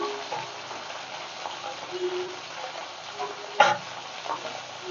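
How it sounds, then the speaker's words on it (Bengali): Tengra fish frying in a pan gives a soft, steady sizzle with faint stirring and one sharper scrape or clatter near the end, quiet and close. "ট্যাংরা মাছটা আমি একটু ভালো করে ভাজবো।"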